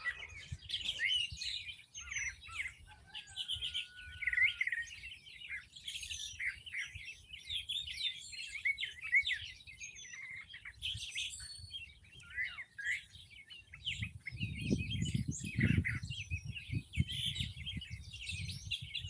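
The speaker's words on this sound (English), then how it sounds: "let the birds sing you to sleep" Many birds chirp and trill without pause, a dense, fairly quiet dawn chorus with a low rumble of background noise beneath it.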